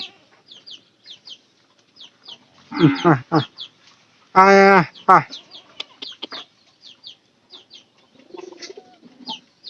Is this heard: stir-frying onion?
no